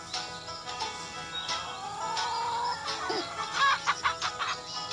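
Chickens in the Hay Day farming game cluck and squawk in short bursts over soft game music, with a few cartoonish chimes, the clucking growing busier toward the end.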